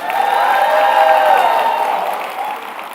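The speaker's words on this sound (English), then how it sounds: "Another round of applause for Ambassador Philip Tigo." At a closing ceremony, a large crowd gives loud, sustained applause and some cheering for Ambassador Philip Tigo, a dense wash of clapping that holds steady before easing off slightly near the end.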